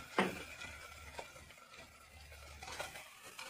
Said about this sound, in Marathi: हलवून घ्यायचे चांगलं.